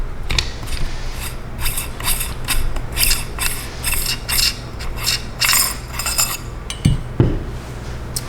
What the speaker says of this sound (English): Now we're going to take off our barrel shroud, which is reverse threaded.